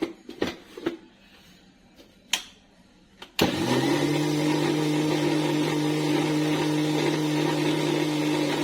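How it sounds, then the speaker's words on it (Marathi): A few sharp knocks and clicks, then a kitchen mixer grinder kicks on and runs with a steady, loud high whine, blending with water. "आणि त्याला मिक्सरवर फिरवून घ्यायचंय"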